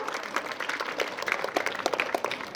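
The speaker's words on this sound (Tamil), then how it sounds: "நீங்களும் அவர்களுக்கு கைத்தட்டி வாழ்த்துக்களை தெரிவிக்கலாம்" Scattered clapping from participants at a World Water Day awareness rally, individual claps distinct and uneven, moderately faint.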